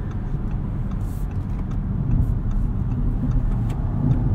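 2016 Audi S7 on winter tires launching under launch control, a deep, steady engine roar heard from inside the cabin, building gradually and holding strong throughout.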